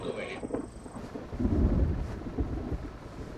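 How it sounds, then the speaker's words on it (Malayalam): Rolling thunder outside during a storm, a low rumble that swells in the middle and fades, heard indoors and fairly distant, with faint voice-like sounds early on. "പുറത്ത് ഇടിയും മിന്നലും കണ്ടില്ലേ?"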